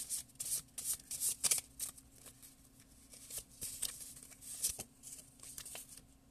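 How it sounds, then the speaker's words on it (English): A deck of oracle cards shuffled close to the microphone, soft rapid riffling and flicking bursts in an irregular rhythm, fairly quiet, with no talking. "so let's pull a Grimm card"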